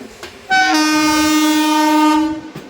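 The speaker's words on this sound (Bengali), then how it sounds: "এবার আমাদের সাথে দেখা হবে আমাদের ভারতবর্ষের দ্বিতীয় দীর্ঘতম ট্রেনের সাথে যার train number one two five zero seven" Indian long-distance train 12507, hauled by a WAP-7 locomotive, blasts one loud, steady horn lasting nearly two seconds, close by, with a rumble before and after.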